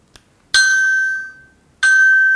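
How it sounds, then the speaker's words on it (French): Pre-alarm tone from a Datacet D7000 One phone after its SOS button is pressed: a faint click, then two bright, ringing electronic beeps, the first fading out slowly and the second starting after a short pause. "Le téléphone se met en préalarme."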